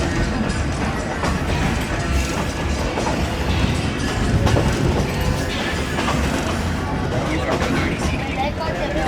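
A shuttle train rolls toward Jand Junction station through mountain country, a steady loud rumble of wheels and carriages with faint clatter, continuous and close throughout; no clear speech heard.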